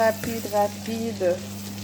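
Beef liver sautéing with onions in a pan, giving a moderate sizzle with a few soft knocks and scrapes over a constant low hum.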